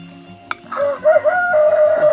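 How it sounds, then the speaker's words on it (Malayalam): A sharp click, then a rooster crows loudly and steadily over a low background of clucking hens. "അമ്മച്ചിയുടെ കോഴിയൊക്കെ കിടന്ന് കരയുന്നുണ്ടല്ലോ"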